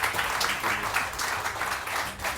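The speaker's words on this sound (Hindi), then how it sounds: "बहुत सारी तालियां" A studio audience on a morning television show claps in a brief, dense burst of applause, loud and steady throughout the short stretch.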